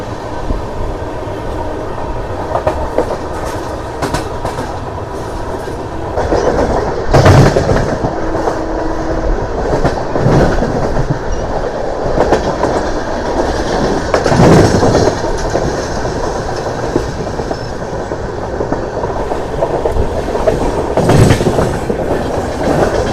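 A train running past Krishna Canal Junction: loud, continuous rumbling of wheels on track with repeated clickety-clack bursts and brief squeals, swelling and easing as carriages pass close by.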